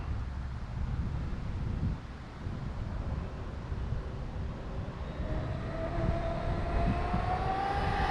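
A Traxxas Maxx 4S RC truck with a Hobbywing Max8 system runs at about half throttle, its electric motor giving a steady loud whine that climbs in pitch toward the end, with wind buffeting the microphone.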